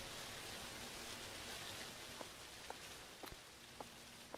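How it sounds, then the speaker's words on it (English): Steady rain from a Chilla's Art horror video game, a soft, even hiss that fills the whole stretch, with a few faint isolated drips or taps near its end. "It was just that particular bit of rain gets loud."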